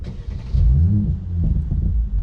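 A 2017 Mercedes-Benz C43 AMG with a Stage 1 tune in Sport Plus mode revs hard, rising and falling in a deep, loud roar with a brief lull before climbing again.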